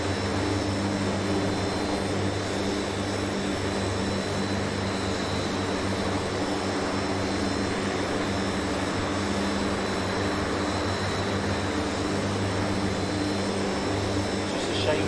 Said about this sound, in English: It's just a shame the engines sound like they're outside.